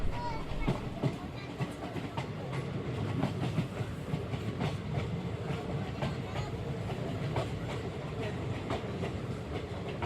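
An Indian train rumbles steadily along the tracks with rhythmic clickety-clack, loud and close, as if heard from inside a carriage, with faint voices.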